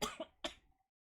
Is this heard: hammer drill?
no